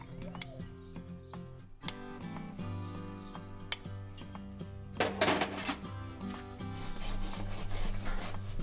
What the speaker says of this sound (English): And then use a rasp to smooth it all up, file it down.